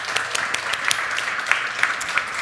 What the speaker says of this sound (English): Let's give Vishaal a round of applause.